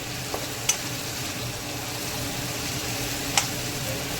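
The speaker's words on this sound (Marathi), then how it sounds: "टमाटर टमाटर घालत आहे" Tomatoes go into a sizzling capsicum (shimla mirchi) curry, producing a steady close frying hiss with a couple of sharp utensil clicks.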